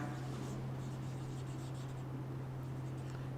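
Faint scratchy strokes of writing on a classroom board during a Class X maths lecture on linear equations, over a steady low electrical hum.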